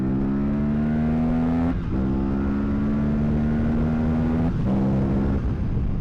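An Aprilia RS 457 motorcycle engine screams loud and close, pitch climbing steadily as it revs to about 10,000 rpm, with two abrupt upshifts that briefly drop the tone before it climbs again.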